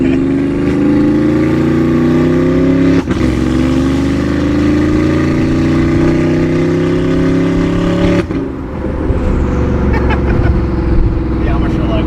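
A Porsche Panamera Turbo with side exhaust revs loudly up close, its engine tone climbing steadily, cutting briefly, then rising again before dropping into a rougher burbling idle, with people talking over it.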